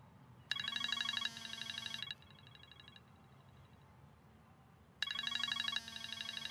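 An electronic telephone rings in two bursts of trilling tones a few seconds apart, fairly clear against a quiet background.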